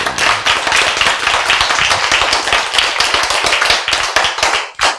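An audience at a Korean sermon claps in dense, rapid, close hand claps that continue evenly for several seconds before stopping abruptly.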